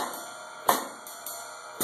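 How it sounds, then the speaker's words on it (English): A swing jazz drum groove with an offbeat snare block on the and of two and swung eighth notes: a sharp woody snap, then lighter cymbal ticks and another crack, close and unaccompanied. "Seven, we're going to play a block on the and of two with the swing eight"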